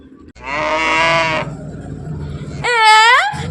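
A person's voice imitates a cow with two drawn-out, wavering moos separated by a short pause, loud and close.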